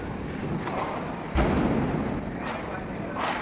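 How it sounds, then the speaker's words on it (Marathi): A single Diwali firecracker bursts with a dull thump partway through, heard outdoors through wind noise against the microphone. "फुटला बाबा फायनल तो फटाका"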